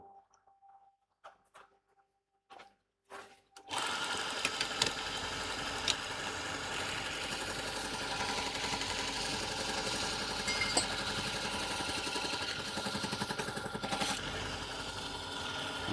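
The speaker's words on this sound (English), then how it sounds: "I just need to sharpen that roughing gouge" A woodturning roughing gouge is sharpened on a running grinder, which after a few scattered knocks starts up and holds a loud, steady grinding whine with constant gritty texture.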